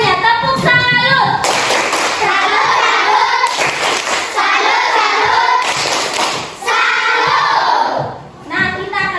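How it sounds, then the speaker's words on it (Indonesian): A fourth-grade class of schoolchildren performs a salute clap in loud, rhythmic bursts of clapping and chanting, with short pauses between rounds and a teacher's voice in between. "Oke, tepuk salut untuk semuanya."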